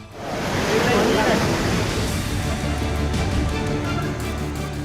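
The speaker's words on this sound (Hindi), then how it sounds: "नदियों का पानी तेजी के साथ आगे बढ़ता है" Swollen floodwater from monsoon rains rushes through a river in Uttarakhand, a broad, continuous roaring wash that rises quickly and holds steady, loud and close, with no voices.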